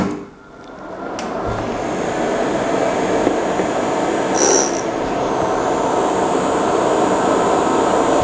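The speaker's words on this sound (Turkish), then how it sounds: "Şimdi fanımı çalıştırıyorum." A small electric fan is switched on and keeps running, a loud, close, steady whooshing hum that holds evenly after a brief start-up click.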